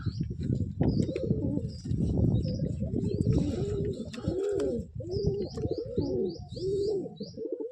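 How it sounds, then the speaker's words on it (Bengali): A female pigeon at a pigeon sale coos in repeated soft, low rolling calls, close by, with faint chirps and rustling from other birds around it. "এটা মাদি পায়রা"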